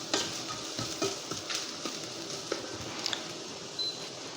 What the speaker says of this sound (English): Let's stir a little bit and make sure that the zest goes everywhere.